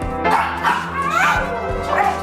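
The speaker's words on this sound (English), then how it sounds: "they barked at me." Several pet dogs barking and yipping close by, overlapping repeated barks with whimpering yips in a continuous excited burst.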